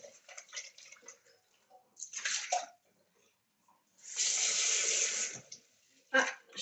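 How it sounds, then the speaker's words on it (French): Water splashes as something is rinsed after being treated with spirit vinegar, in several short gushing bursts separated by quiet gaps, close by with faint handling noises between. "Désolée, je la rince."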